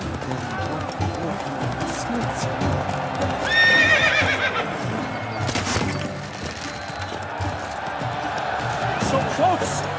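Roach, a horse in The Witcher 3, gallops with rapid clip-clopping hooves during a race, letting out a whinny partway through, while voices talk over the game sounds.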